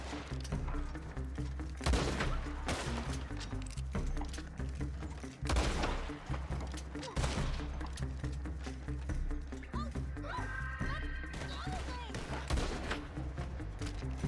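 Gunshots in the Red Dead Redemption 2 western game ring out in a few sharp bursts amid a busy mix of music and ambience, with loud cracks near the start and middle and voices talking now and then.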